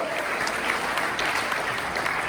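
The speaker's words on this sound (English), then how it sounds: "Give him a big round of applause for the School of Psychology." Dense, even applause from an audience, a continuous wash of clapping that holds steady the whole time.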